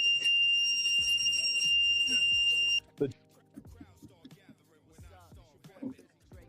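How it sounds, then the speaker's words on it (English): A courtroom alarm blares as a loud, steady electronic tone for a few seconds and then cuts off, giving way to scuffling noises and muffled voices. "Eventually, Redden is handcuffed and the courtroom alarm begins to sound."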